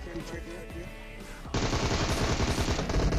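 Gunfire in PUBG Mobile: game audio with background chatter in the first half, then a sudden loud burst of rapid, sustained automatic shots filling the second half.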